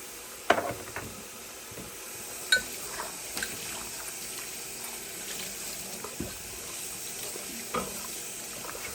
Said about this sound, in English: So now I'll turn on my cold water and I'll rinse everything